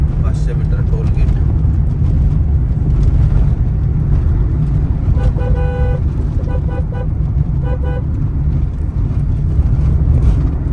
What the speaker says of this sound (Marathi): काय हॉर्न मारायला लागतो